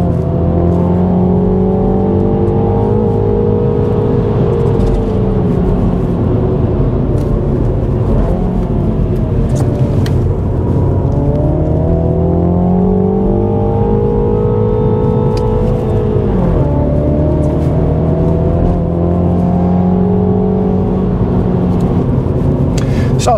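A 2021 Mini John Cooper Works hot hatchback accelerating hard out of corners, loud in-cabin engine note rising and falling through several revving pulls and gear changes, continuous throughout.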